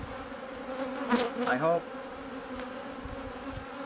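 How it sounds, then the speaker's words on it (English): Honeybees buzz steadily during a hive split, a soft, close hum that continues throughout, with a short spoken phrase briefly rising over it. "Lots of young little furry bees."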